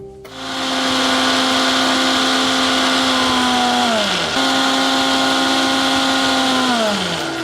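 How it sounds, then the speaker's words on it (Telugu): A mixer grinder blends soaked moong dal with spinach and water, giving a loud, close motor whine. It runs steadily, winds down, then restarts for a second run that slows to a stop near the end. "ఇప్పుడు మనం దీన్ని మిక్సీ పట్టేసుకుందాం."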